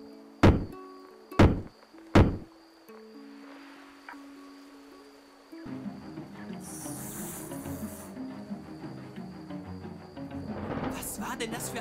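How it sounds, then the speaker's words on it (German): Three sharp hammer blows on a nail land in quick succession in the video game Night of the Rabbit. A rumbling, murky ambient swell follows and builds to the end. "Der zweite Nagel ist eingeschlagen."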